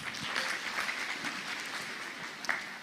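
A church congregation applauds in a worship service, with steady clapping from many hands continuing evenly throughout.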